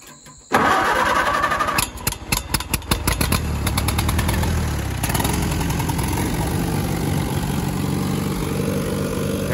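An old tractor engine cranks over, then catches and starts, its firing uneven for a few seconds before it settles into a loud, steady, close-up idle that runs to the end with no talking.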